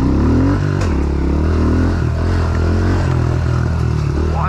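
A Honda CRF110 pit bike rides a dirt track, its small engine note droning steadily and loud close to the mic, with rattling clatter over rough ground and a brief throttle change near the end.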